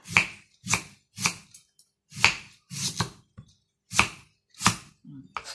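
A knife chops raw bamboo shoots that will be boiled, each stroke a sharp, close thud on a cutting board, landing in an irregular rhythm of about ten strokes with short pauses between them.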